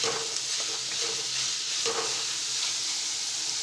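Chopped capsicum sautéing in a pan for a stovetop pizza topping, giving a steady close sizzle and hiss with faint stirring scrapes and no voices.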